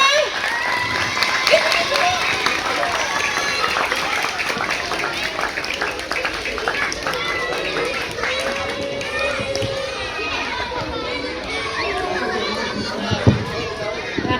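Schoolchildren at an elementary school religious celebration clap their hands together in a loose burst of applause, with children's voices and lively chatter mixing throughout.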